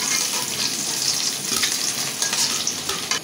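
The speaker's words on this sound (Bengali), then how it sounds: "ডিম ভাজিটা লাল লাল করে ভেজে নিচ্ছি" Duck eggs fry in hot oil with a dense, continuous sizzle and crackle, occasional stirring scrapes cutting in, loud and close without any voices.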